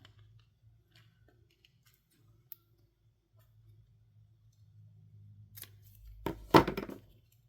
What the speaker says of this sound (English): I'll trim this off on the sides.